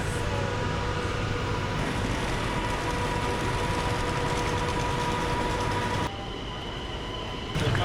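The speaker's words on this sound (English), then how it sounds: "Well, that's the train." A train arriving at a platform rumbles loudly and steadily at close range, a dense mechanical roar with faint high squeals, dipping briefly near the end.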